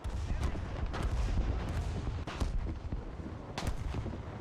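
War Thunder artillery rumbles in heavy, repeated booms with sharp gunfire cracks layered over them, loud and dense for the whole stretch with no speech.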